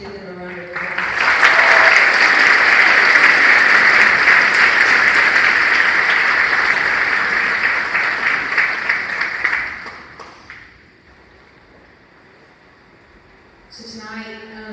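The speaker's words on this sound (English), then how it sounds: "would you guys please give them a round of applause?" Audience applause at a high school awards ceremony, loud sustained clapping that swells for about nine seconds, then fades into near quiet before a voice starts talking.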